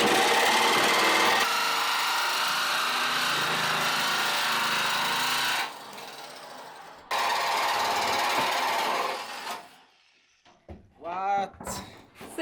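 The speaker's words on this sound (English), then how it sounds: "Time to drill." Power drill boring a hole through the metal roof of a campervan for a vent, a loud steady grinding whine that runs for several seconds, cuts out, returns, then gives way to quieter scraping and brief voices.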